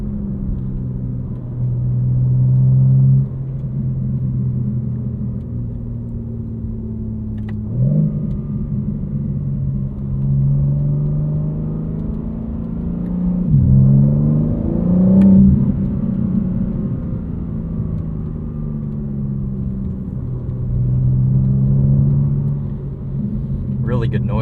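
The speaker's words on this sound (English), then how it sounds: "Really good noise from this S58." BMW M4 CS with the S58 engine drives, a low rumbling engine note rising and falling as it revs through gears, heard from inside the car over road noise with a voice talking at times.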